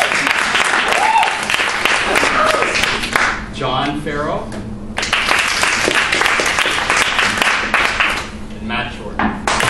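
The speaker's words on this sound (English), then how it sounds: "Applause would be good." Studio audience applauding quiz show contestants on a panel comedy quiz, loud dense clapping that fills most of the stretch, with a brief lull in the middle where a voice speaks before the applause swells again.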